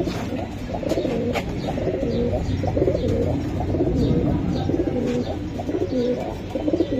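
Pakistani flying pigeons coo in a steady, overlapping rhythm close by, the soft throaty calls repeating throughout with a few faint chirps and no talking.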